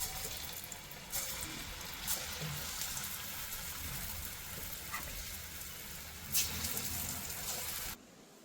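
Moong dal fritters (pesarapunugulu) frying in oil, a steady, even bubbling hiss throughout with a few brief louder clatters, ending abruptly.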